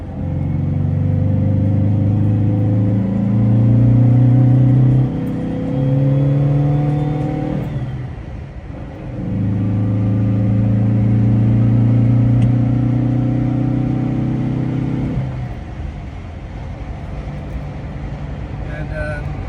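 A 1968 Porsche 912 engine pulling along a twisty road, heard from inside the car, rising and falling in loud revs with two brief drops between gear changes and throttle lifts.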